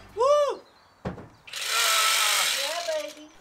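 A short whistling whine and a sharp knock give way to a loud, steady grinding screech of an angle grinder and jigsaw cutting a window hole in van body metal.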